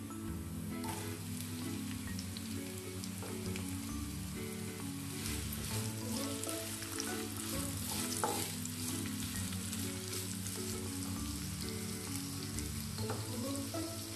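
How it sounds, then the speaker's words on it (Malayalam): Chopped onion fries in hot oil with ginger and garlic, producing a dense, continuous crackling sizzle with occasional stirring scrapes, steady and close throughout. "ഇതിലേക്ക് ഞാനൊരു വലിയ സവാള അരിഞ്ഞത് ചേർത്ത്"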